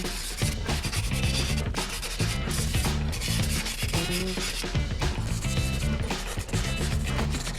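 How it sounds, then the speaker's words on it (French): Continuous close abrasive rubbing as black quench scale is sanded off hardened steel knife blades, a steady dense scrubbing texture with rhythmic strokes and no pauses. "donc c'est reparti pour un petit ponçage."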